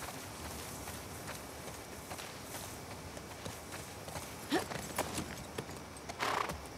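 Horse hooves in The Last of Us Part II, a steady clip-clop of walking steps close by, with a brief whinny-like call and a few louder thuds over a faint hiss of game ambience.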